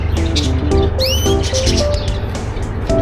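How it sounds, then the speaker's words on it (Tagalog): Several birds chirp and tweet close by during a night walk in Al Rigga, with quick rising whistles and short repeated calls overlapping above a steady low city hum. "hindi na kailangan ng sound effects ng ibon dito"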